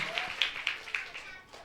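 An audience clapping, as scattered, light handclaps at an uneven rhythm that fade out over under two seconds.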